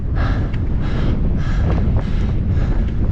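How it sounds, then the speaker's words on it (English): Strong head-on west wind buffets the microphone in rough, rumbling gusts while cycling up Columbine Pass in Uncompahgre National Forest, surging and easing every half second or so, with faint breathing in the mix. "This head-on west wind was funneling itself along the cliffs and heading directly towards my gut."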